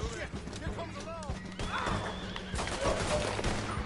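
A horse in the Western online game Red Dead Online neighs and whinnies several times, loud and close, amid gunfire, hoofbeats and a player talking over it.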